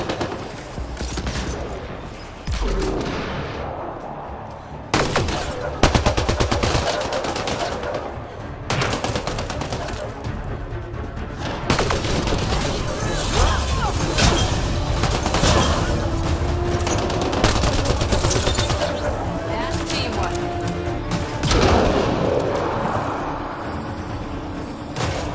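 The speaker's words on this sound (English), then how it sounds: "Everywhere I go, there's a firefight." Sustained gunfire rattles through a firefight in Mass Effect Andromeda, with dense machine-gun bursts and heavier booming shots layered over one another, loud and close with barely a pause across the whole stretch.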